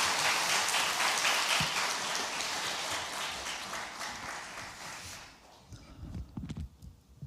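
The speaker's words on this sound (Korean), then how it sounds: "이 나라 잘 좀 붙잡아 달라고 부탁하는 박수 한번 합시다" Applause from a congregation at a Friday late-night church prayer meeting, a dense sustained clapping that fills the room for about five seconds before dying away to a few scattered claps and quiet shuffling.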